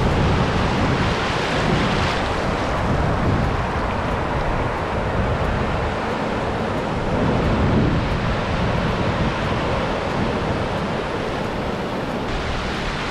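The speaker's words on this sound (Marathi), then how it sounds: "बघा समुद्राच्या लाटांचा तो घोंगवणारा आवाज" Roaring sea waves on Anjarle beach in Konkan, a steady, loud rush of surf with some wind buffeting the microphone and no talking.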